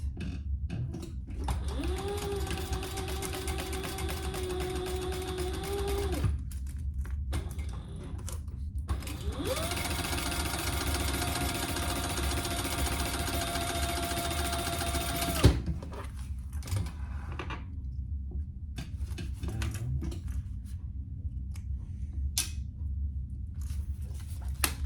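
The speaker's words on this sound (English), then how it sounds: "now we are going to stitch across the zipper top here" Home sewing machine stitching across the top of a zipper on a crossbody bag, running in two long steady bursts with a brief pause between them, close and loud, with no talking.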